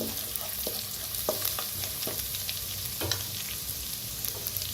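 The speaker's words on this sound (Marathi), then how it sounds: "त्याच्यात टाकूया थोडीशी हळद, त्याला बी असं भाजूया." Crushed garlic and green chili roast with a pinch of turmeric in a pan, giving a soft continuous sizzle broken by light scraping stirs and occasional clicks of the utensil.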